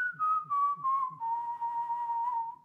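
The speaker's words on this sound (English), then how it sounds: "you can try whistling a scale" A single whistler steps through a series of clear tones, short notes at first and then a longer sustained note, close and alone.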